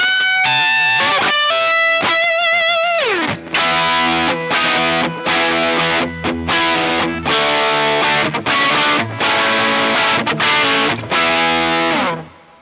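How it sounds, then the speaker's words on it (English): An electric guitar plays a praise-and-worship style line through a JHS distortion pedal, starting with sustained bends and then moving into chopped, heavily driven chords in a steady rhythm, loud and upfront with no voices. "let's hear the JHS one more time. That's his distortion pedal"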